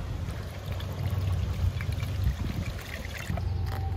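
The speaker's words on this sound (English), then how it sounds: "I'm gonna use this funnel to put the water, the chlorinated water in" Chlorinated water pours through a funnel into a campervan's water tank, a close gurgling trickle and splash that swells and eases in uneven surges, with no talk.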